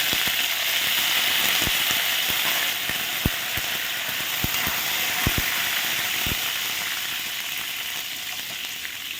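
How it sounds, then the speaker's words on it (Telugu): Hot oil sizzling and spitting steadily as garlic, chillies and curry leaves fry, with sharp crackling pops scattered throughout and no talking. "ఎల్లుల్లి మిరపకాయ వేస్తున్నానండి, కరివేపాకు రెండు వేసుకుంటున్నాను."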